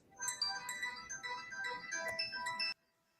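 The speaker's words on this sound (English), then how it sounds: "I got a phone call coming in." A phone ringtone plays for an incoming call, a bright melodic electronic tune lasting about two and a half seconds before cutting off abruptly into silence.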